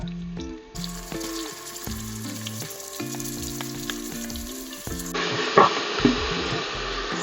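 Finely chopped onions go into a pan for a homestyle chicken curry and sizzle as they fry. The sizzle sits under steady background music, and the frying noise becomes more prominent toward the end.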